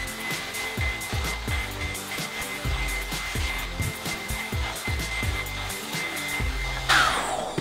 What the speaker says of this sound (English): I'm hoping that I'm straightening and blow drying it at the same time